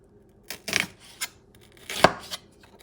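Onions chopped on a board with a sharp knife, a few crisp close cuts in two short bursts, loud and dry with near silence between strokes.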